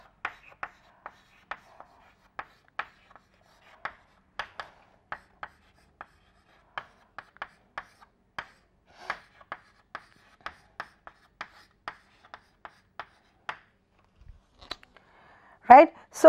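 Chalk or marker writing an equation on a board, a steady run of short, crisp taps and strokes spaced at an irregular rhythm, fairly close and quiet, ending with a brief louder rustle.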